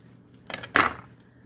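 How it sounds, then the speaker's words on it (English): A kitchen knife chopping through a Vidalia onion into fairly large pieces on a board, giving a couple of close, crisp cuts about a quarter second apart, the second firmer than the first. "I think I'm going to cut up this onion, not real small, so that it'll be good fried"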